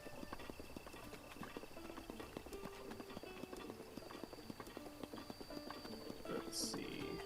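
Horse hooves clip-clop steadily in Breath of the Wild, a continuous brisk rhythm of soft, close hoofbeats at moderate level, with faint game ambience and a brief higher chime near the end.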